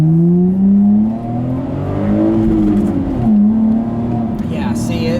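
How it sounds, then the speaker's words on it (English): A 2010 Chevrolet Camaro RS V6 accelerates hard, the engine note rising steadily with a brief dip at a shift before climbing again, loud from the cabin with faint road noise. "Do another acceleration here to show you the power band."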